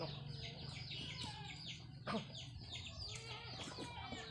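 Chickens clucking repeatedly nearby, a soft busy chatter of short calls with no talking.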